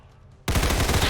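A sudden burst of rapid automatic gunfire in the video game XCOM 2, bursting in loud and dense after a near-silent moment and continuing as a sustained rattling volley.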